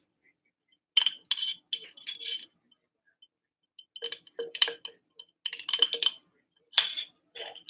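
A charcoal incense disk being snapped and cut in half, giving several short, bright clinking cracks in bursts with quiet gaps between them, close and fairly faint.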